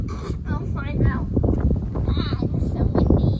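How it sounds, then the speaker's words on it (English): Strong wind buffets the microphone with a constant low roar while a person talks over it. "It's so windy."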